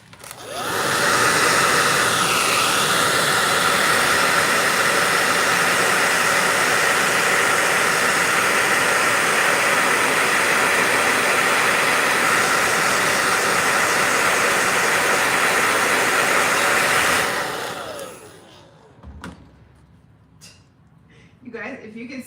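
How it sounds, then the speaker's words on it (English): A blow dryer runs steadily at close range for about seventeen seconds, a loud, even rushing roar with a faint whine, then clicks off and leaves quieter room sound. "every time he turns on the blow dryer this morning, they all go flying."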